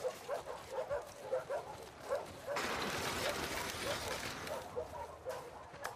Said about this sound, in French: voilà le prochain chien